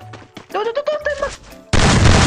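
Gunfire in the mobile battle royale game Free Fire, a sudden loud dense burst of shots near the end, following a few sharp thuds and a stretch of voice and game sounds.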